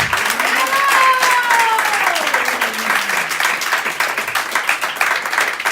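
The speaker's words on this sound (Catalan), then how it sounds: "Un aplaudiment molt fort per a ells dos." Crowd clapping at a Sant Jordi day celebration in a residence in Bellpuig, sustained broadband applause honoring Saint George and the princess, with a rising and falling voice-like tone sweeping through the first few seconds.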